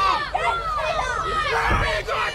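Excited pro wrestling crowd at an Australian show, loud and continuous with rising shouts and cheers, a dense roar of many voices with occasional sharp yells throughout.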